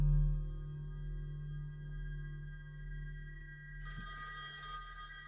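A telephone bell in a short film rings out abruptly partway through, bright and steady over a low background hum, with no talking.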